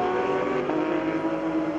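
A Ferrari GT race car engine heard onboard during a GT Asia 2013 race, a loud steady engine drone holding high revs for under two seconds.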